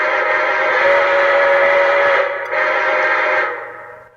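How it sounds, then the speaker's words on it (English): A model train locomotive's horn-style whistle sounds in one steady, loud blast that dips briefly near the end, then resumes and fades out. "let's do the whistle."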